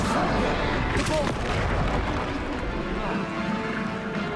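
Depulso spell effects in Hogwarts Legacy, heavy booming blasts and rumbling impacts layered over dense continuous battle noise.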